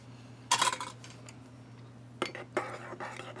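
A metal spoon scrapes and clinks inside a WW2 mess kit while a reproduction K-ration dinner is stirred, with a bright clatter near the start, then a few quieter taps and scrapes against a low steady hum.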